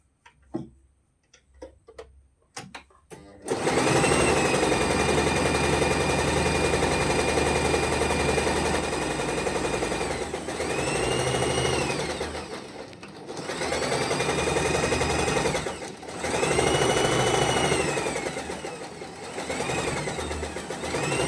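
A sewing machine stitches a pair of pants, its motor running in steady, fast rhythmic bursts with brief pauses between runs, loud and close, preceded by a few sharp clicks and handling taps; no talking.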